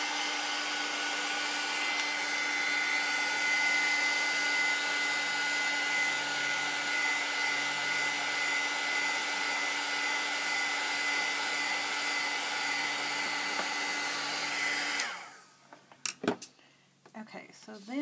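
A hair dryer drying a metal flower embellishment blows with a loud, steady whine for about fifteen seconds, then cuts off, followed by a few light clicks and knocks.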